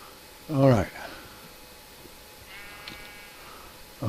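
A sheep in the Minecraft video game gives one short, clear bleat close by, followed by quieter ambient game sounds.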